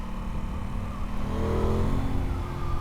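An Aprilia Tuono 660 Factory motorcycle engine revs under full throttle in a sustained, loud, rising drone with strong low rumble, heard close with no speech.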